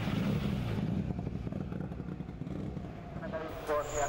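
A rally car is pushed to full throttle on a gravel rallysprint stage at Leppävirta, its engine droning loudly and steadily beneath a voice talking over it.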